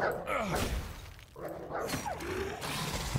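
Dogs in the video game Dysmantle bark and snarl amid crashing combat noises, a busy, loud mix of yelps and impacts over a few seconds.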